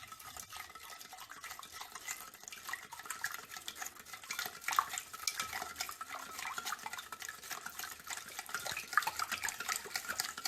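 Lemon ginger cake batter being beaten in a bowl, a steady scraping, clattering whisk-and-bowl rhythm that continues close and moderately loud for the whole stretch, with no voices.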